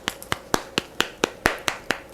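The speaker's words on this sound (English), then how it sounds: "You can clap because there's a concave, and the concave in my hand matches with it." Hands clapping around a concave object held in one palm, ten sharp hollow claps at a steady, fairly quick rhythm, close and clear with no talking.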